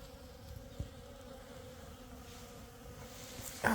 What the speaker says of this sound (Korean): 양봉이 흙벌 흑벌이기 때문에 여기서 무언가를 채취하려고